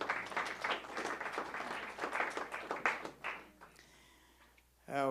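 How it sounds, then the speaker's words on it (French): Church congregation at a praise and testimony night applauding, a dense burst of many hands clapping for a few seconds that fades away, with voices afterward. "On applaudit le Seigneur pour lui."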